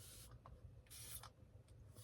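An April Fresh air freshener is sprayed indoors in short hissing bursts, two longer sprays and a couple of brief puffs, faint over a low background hum.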